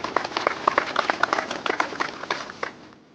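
An assembled crowd of officials and clergy applauding Prime Minister Pashinyan, brisk, dense hand clapping close by that thins out and stops near the end.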